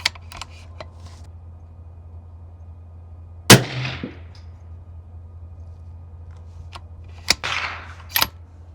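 Custom DIY rifle firing rounds over a chronograph outdoors, two sharp reports several seconds apart, each with a short decaying tail, plus a few faint clicks and knocks between them over a low steady hum.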